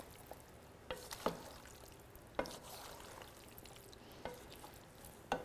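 A spoon works through a green bean casserole mixture of fresh green beans, onions and garlic, giving a few soft wet scrapes and clinks spaced over several seconds against a faint, steady background hiss.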